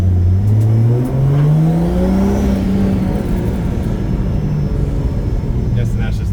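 A 2JZ-swapped Honda Odyssey drift car accelerates hard, its engine note climbing in a loud, close rising whine before settling, with people talking over the noise.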